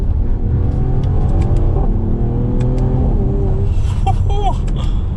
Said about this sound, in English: Wow, you can hear some pops in that exhaust too.